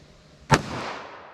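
A single sharp Glock pistol shot firing a 230 grain Winchester Ranger T-Series round, loud and close, with a brief reverberant tail trailing off afterward; no talking.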